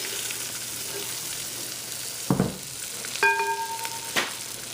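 Vermicelli roasting in melted butter in a pan gives a soft, steady sizzle with a few clinks of a utensil stirring against the pan, close by with no talking.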